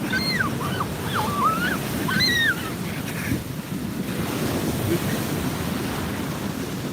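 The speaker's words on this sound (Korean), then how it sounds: "야 저기 또 파도 밀려와." Ocean surf rolls and crashes steadily onto a beach, loud and close with wind buffeting the microphone throughout, while children's high voices and laughter ride above the waves.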